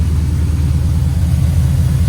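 A drift truck's engine idles after sitting unused for a while, a loud, close, steady low rumble with a slightly uneven, choppy pulse and no voices over it.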